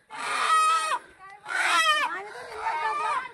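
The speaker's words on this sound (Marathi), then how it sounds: "कुणाचा कोंबडा आहे" Rooster clucks in a bursts of loud, near, harmonic calls separated by short pauses, a bird being caught for a festive meal.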